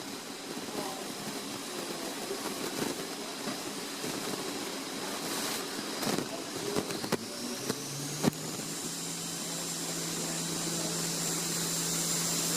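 A 1994 Haas VF3 CNC mill with a 15 hp spindle runs a program up to 7,500 RPM. A steady mechanical hum carries intermittent clunks and knocks from tool changes, then a rising spindle whine near the end.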